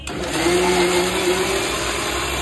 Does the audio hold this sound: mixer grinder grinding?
yes